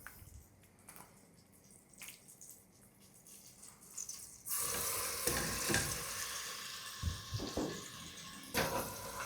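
Two chicken pieces go into melted butter in a pan: quiet clatter and faint bubbling at first, then a sudden loud sizzle that holds steady with occasional bursts, close up and with no talking.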